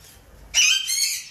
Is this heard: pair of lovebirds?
yes